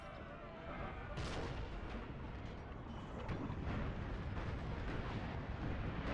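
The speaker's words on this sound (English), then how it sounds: "Just the constant roar of artillery." Constant artillery fire rolls across a 4v4 multiplayer Napoleonic Total War 3 battle, a dense, continuous roar of overlapping booms and distant gunfire layered thickly throughout.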